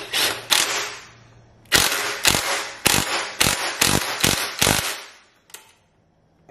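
A wrench tightens the bolts on the rear shock of a 2022 Honda Grom, giving sharp clicking, ratcheting bursts in a quick repeated run, close and crisp, with short gaps between strokes and a final pause.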